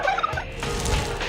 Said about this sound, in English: It's time to get the kids ready to say goodbye to the turkeys.